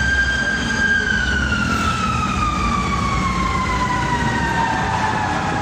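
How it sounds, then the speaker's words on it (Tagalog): A fire truck siren wails steadily, its pitch sliding slowly downward as the vehicle passes, loud over a rumbling street background with no talking. "Nagwawala na mga fire truck."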